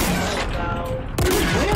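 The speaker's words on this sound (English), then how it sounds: "you can rapid fire this thing" Rapid shots from a sniping gun in a multiplayer video game, several sharp reports in quick succession, loud and near, with a brief lull before another burst.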